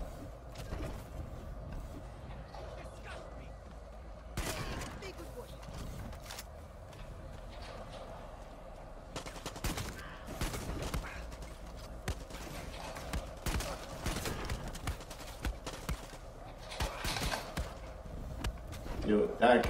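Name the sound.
gunfire in Far Cry 6 video game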